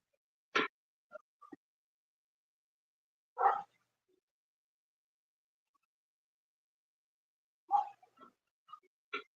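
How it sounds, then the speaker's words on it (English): Dogs bark in a few isolated, sharp bursts spread over several seconds with long silent gaps between them, fairly distant and quiet. "Bella, Samson, quit barking!"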